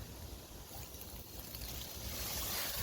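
Water rushes through a garden hose on a DIY metal hose reel, a steady broadband hiss and gush that grows slightly louder toward the end, with no voices.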